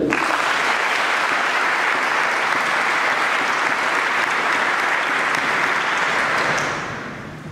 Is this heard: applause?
yes